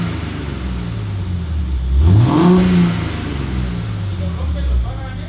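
Car with a new exhaust idling with a deep rumble, then one loud rev that climbs and drops back to a low growl, close by, with voices talking over it.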